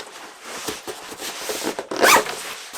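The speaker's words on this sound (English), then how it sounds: "Get this thing zipped up." A zipper is pulled closed on a GORUCK Echo backpack, a 15-liter pack with a laptop area, giving a few short scratchy rasps followed by one louder, quick final zip, heard close up with no speech.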